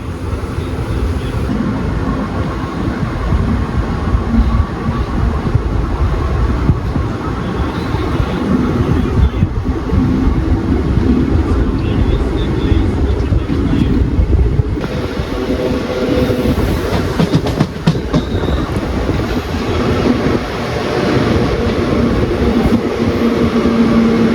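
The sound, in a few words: train running along the tracks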